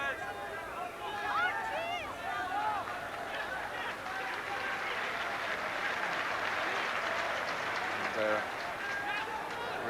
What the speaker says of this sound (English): Reaction in terms of the applause for the ball being retrieved by the Brazilian